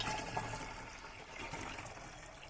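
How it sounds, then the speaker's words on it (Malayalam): Rice water (kanji vellam) being poured into a container, a quiet liquid trickle and splash that runs throughout, with no voices. "ഒരു ലിറ്റർ കറക്റ്റായിട്ട് ഞാൻ എടുത്ത് ഇങ്ങനെ ഞാൻ നോക്കണം ഇതിനകത്തോട്ട് ഒഴിക്കുകയാണ്"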